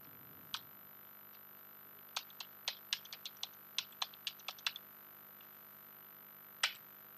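Typing on a computer keyboard: a single keystroke, then a quick run of about a dozen crisp clicks, and a final key press after a pause, close and quiet in a still room.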